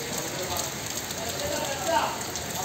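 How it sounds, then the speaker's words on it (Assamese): Heavy monsoon rain falls as a dense, continuous patter on a nearby surface, steady and moderately loud throughout with no pauses. "আৰু এনেকৈ বহি আছোঁ যিহেতু ধমাকা বৰষুণ দি আছে।"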